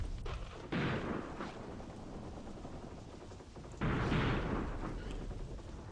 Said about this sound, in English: I'm going to bring in additional howitzers